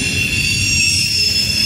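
CSX locomotives 212 and 6375 rolling through a curve on former B&O track in Deshler, Ohio, with loud, close wheel squeal ringing steadily over a heavy rumble of rail cars.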